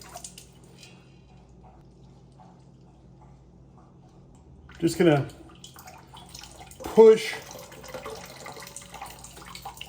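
Warm water pushed through a Sawyer Squeeze filter to backwash it, heard as two short bursts of rushing, squirting water, the second stronger, close up, with someone talking over quiet background.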